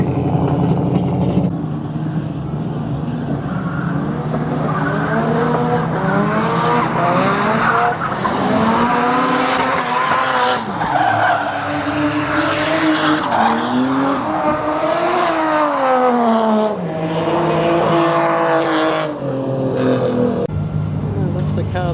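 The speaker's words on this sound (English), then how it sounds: "And so you got no tyres left." Drift cars at a Drift X event at Calder slide and skid for a sustained stretch, with loud, continuous tyre squeal and wailing, rising and falling engine notes close by, and a voice speaking over the din.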